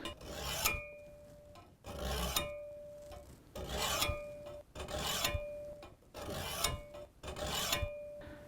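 A hand file rasps across a steel garden hoe blade, taking burrs off in six or seven steady strokes with short pauses between, close and fairly quiet with no voices.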